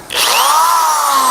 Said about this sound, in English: yeah, runs the hammer drill just fine.